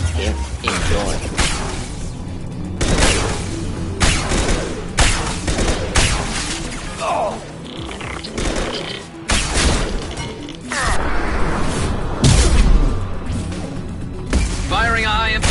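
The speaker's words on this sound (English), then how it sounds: "Firing a high impact shot." Dense gunfire and heavy impact shots in the video game Mass Effect 2, loud and continuous, with bursts of weapon fire, crashes and mechanical clatter layered over game effects and a voice.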